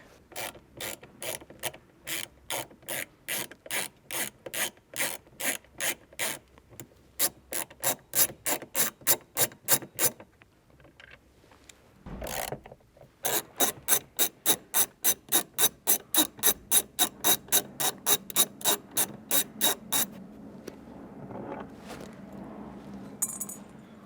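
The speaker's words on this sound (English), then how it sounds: "Removing this, you're going to have 2 T25 Torx bits." Rapid ratcheting clicks from a driver backing out two T25 Torx screws holding a Toyota sun visor, in long steady bursts with a short pause and a brief rustle between, close and fairly loud.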